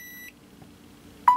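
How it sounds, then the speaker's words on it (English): An LG G4 phone in a Quick Circle case with wireless charging gives a single short electronic beep near the end, after a brief faint tone at the start, in a quiet room. "once you hear that beep, that means you're getting wireless charging."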